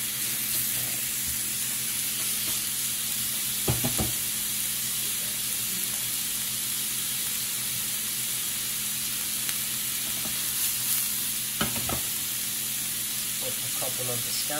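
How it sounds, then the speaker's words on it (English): Shrimp, scallions and peppers sauté in a hot pan, giving a steady sizzling hiss with a couple of sharp clinks of stirring, with no talk heard. "Stir that around"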